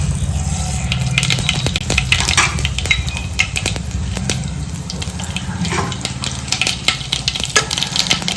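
Mustard seeds sizzle in hot oil in a bowl on a gas stove for sambar tempering, giving a steady, dense crackle and spatter that is close and continuous, with no voices.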